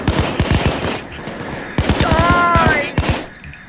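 Rapid bursts of gunfire from enemies shooting at the player during a store heist in Payday 2, loud volleys of close shots in two clusters with a brief lull between them, game audio only.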